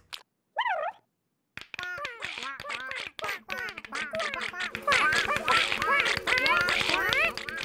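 Rapid strings of duck-like quacks, apparently voiced by people imitating a duck in a Twirlywoos children's programme, repeat in quick bursts over busy music and other sounds, loud and close.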